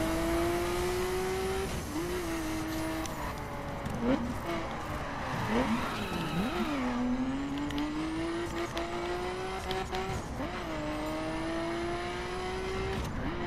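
A Nissan R34 Skyline GT-R in The Crew video game drives with a steady, rising and falling engine drone, shifting pitch through gear changes and brief revs, while someone talks over it.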